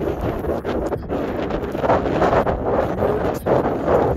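Strong wind buffets the microphone in loud, rumbling gusts that rise and fall, with no voices.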